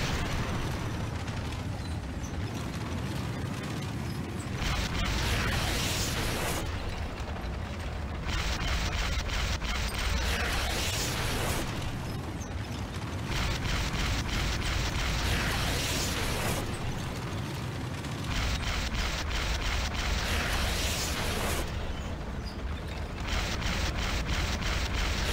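Rumbling building explosions with rattling debris and mechanical clatter in the video game Renegade, loud and continuous in repeated surges with no pause over the whole stretch.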